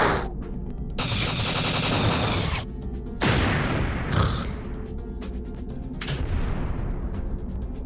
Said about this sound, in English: the only thing I can see and hear is explosions